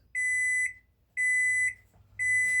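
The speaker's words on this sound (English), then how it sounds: "Turn that old alarm off." Oven timer alarm going off after meatloaf baking, sounding three evenly spaced electronic beeps, each about half a second long, loud and clear with a faint room hum between them.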